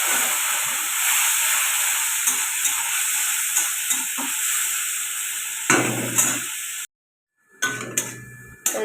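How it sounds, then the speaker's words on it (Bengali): Spices sizzling and frying in a pan for khichdi with tomato sauce, seasoned with garlic, a little ginger and a pinch of chili powder, a steady close hiss with stirring scrapes, then a brief silence and renewed sizzle. "এই দেখুন, এটা আমার মশলাটা ভাজা হয়ে গেছে"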